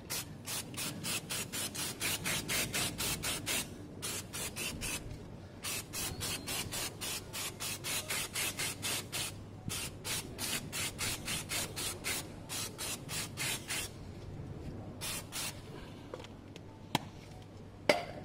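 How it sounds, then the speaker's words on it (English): Brake cleaner sprayed onto Yamaha Fazer 600 motorcycle parts in rapid repeated hissing bursts, steady and close, with a few short gaps and a couple of sharp clicks near the end. "a bit of brake cleaner to take away any residues left"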